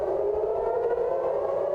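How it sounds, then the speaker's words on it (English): An air raid siren wails across Tel Aviv, a single steady tone holding loud and unbroken throughout, with no voices over it. "air raid sirens rang out across Tel Aviv, a familiar sound"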